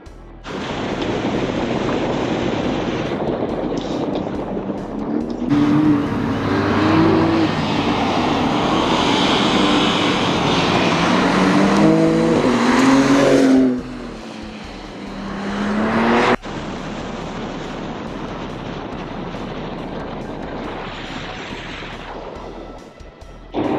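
A GT4 race car tears through its last lap at Thermal Club, its engine roaring loud and close without letup, pitch climbing and dropping through gear changes and braking, with a sharp cut near the end of the run.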